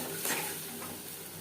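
Spice paste with tomato sizzles and fries in a pan for coconut chana dal, a brief, steady hiss with a soft stir near the start.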